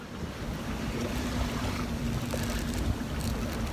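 A sailboat moves through waves in 15 knots of wind with only one sail up, a steady wash of water and wind roar with a faint low hum underneath and no talking.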